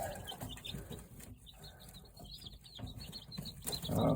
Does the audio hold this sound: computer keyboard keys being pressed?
no